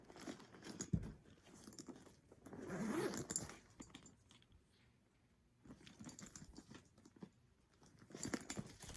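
Quiet rustling and handling of fabric with a short zipper pull on a Loungefly bag pocket in the middle, then a pause before more soft rustling.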